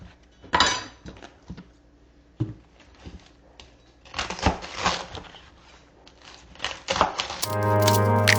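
Sharp knife chops through greens, thudding against a cutting board in irregular bursts, some quick runs of cuts, ending with a louder clattering rush.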